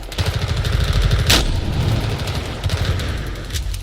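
Rapid bursts of gunfire in Battlefield 4 on an airport map, a dense volley of close, punchy shots with one sharp crack in the middle.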